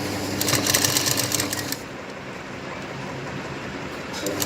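A sewing machine stitches a blouse in a short, fast rattling burst near the start, then falls quiet under faint background noise before a brief restart at the end.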